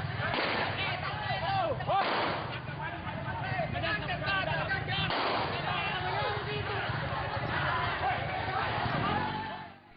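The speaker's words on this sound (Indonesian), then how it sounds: "Aparat Polsek Mamajang yang datang ke lokasi tawuran terpaksa mengeluarkan tembakan peringatan guna melerai tawuran tersebut" A couple of sharp police warning gunshots ring out over a noisy crowd of shouting voices during a street brawl in Mamajang, sounding somewhat distant and muffled.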